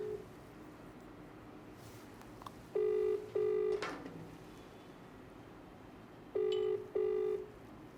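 A telephone rings with two paired bursts of electronic trilling, each double ring separated by a few seconds of quiet room tone, moderately near and clear.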